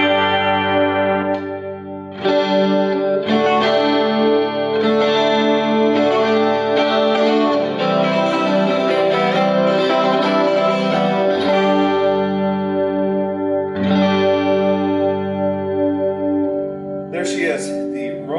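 Electric guitar played through a Roland JC 40 amp with chorus and reverb, sustained shimmering chords and ringing notes in phrases with brief pauses, ending in a few bright scratchy strums.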